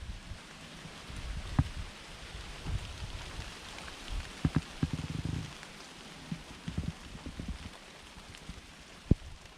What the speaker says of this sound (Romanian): a început să plouă